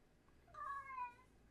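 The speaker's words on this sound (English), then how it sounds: "there's a cat with me" A single cat meow, a rising then falling cry lasting about half a second, faint against a quiet indoor background.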